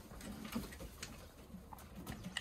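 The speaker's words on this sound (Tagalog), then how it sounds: "ito na nga mga kalapatids ang ating mga ibon nandito na sila sa loob" Pigeons shuffle and coo faintly inside a flyers loft, with soft wing patter, scratching and low calls scattered across a quiet, close indoor space.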